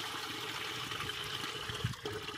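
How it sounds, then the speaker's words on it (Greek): Water sloshing and running in a pot as rice is rinsed and filled with water outdoors for a Middle Eastern pilaf, a steady watery wash close by, with no talking. "Πλένουμε αυτό το ριζάκι, το γεμίζουμε με νερό"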